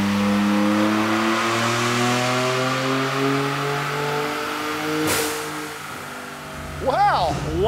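A Ford F150 EcoBoost pickup truck roars through a dyno pull, its engine revving in a long, rising sweep that climbs steadily, then cuts off and drops away, followed by brief voices and a short revving blip.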